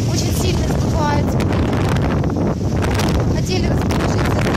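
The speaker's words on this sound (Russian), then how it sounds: "Ветер очень сильно сдувает." Strong wind blasts across the microphone on the Lordos beach in Dekelia, Cyprus, as a loud, continuous roaring rumble with waves beneath it and a voice partly buried in the gusts.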